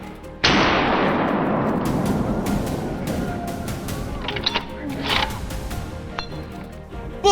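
A single sharp gunshot cracks out on a hillside during a wild boar hunt, loud and close, with a long echoing decay followed by scattered rustles and knocks.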